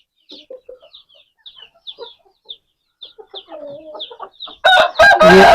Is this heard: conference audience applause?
no